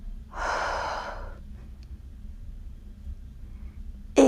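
A single long exhale during a beginner leg-focused yoga exercise, a breathy rush lasting about a second, close to the microphone, followed by quiet room tone.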